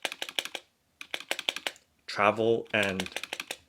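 Clicky key presses from a Havit HV-KB380L membrane gaming keyboard with a mechanical look, tapped in quick close-up bursts with a brief gap, while a voice speaks over part of the typing.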